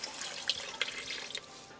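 Water poured into a pot of mushroom curry cooking on medium gas, a short, close trickling and splashing pour with a few bright droplet splashes, heard alone for under two seconds.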